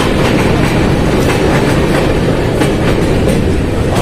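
Avadh Assam Express train crossing the Yamuna rail-road bridge, a loud, steady rumble of wheels and carriages with continuous clickety-clack running close by throughout.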